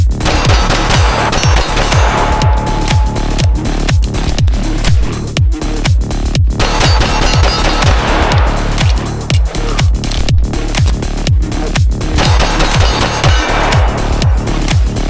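A Springfield Prodigy pistol fitted with a lighter recoil spring fires round after round in a loud, steady, rapid rhythm of sharp close shots, continuing for many seconds with only brief pauses.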